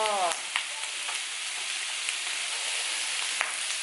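Bacon sizzling and frying in a teppanyaki pan, a dense crackling hiss with scattered pops and spits, close and steady, with a brief scrape or stir near the start.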